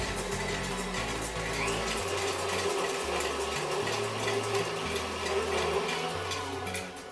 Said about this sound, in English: So we're going to cream the butter and the sweetener representing sugar